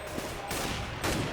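Mag-7 shotgun fire in a Counter-Strike match on the Inferno map, with a few quick, faint blasts in close succession.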